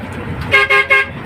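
A car horn honks three quick times in a row, loud and close, over a low road rumble, during a company outing to the beach.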